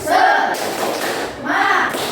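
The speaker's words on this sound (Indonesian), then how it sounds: "mari kita tepuk semangat dulu" Classroom of fifth-grade students doing a rhythmic spirit clap, two loud bursts of patterned clapping and thumps mixed with group voices.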